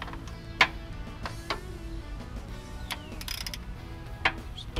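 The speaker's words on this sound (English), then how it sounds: "tighten this guy up without that wrench falling off the bottom" A wrench tightens a bolt during an LSA supercharger install on a car engine, giving close metallic ratcheting ticks with a few sharper clanks spread through the clip.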